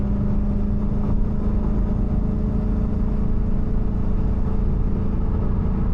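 Lexus IS F with headers and a tune accelerating under throttle, a steady loud engine drone with a deep low hum heard from inside the car, holding constant throughout.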